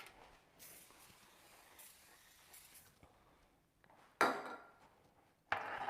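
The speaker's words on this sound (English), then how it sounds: "I'm just going to go over the sink and spray it" Two sharp bursts of oil spray hiss close by over a sink into a baking tin, separated by quiet, after a softer stretch of intermittent hissing.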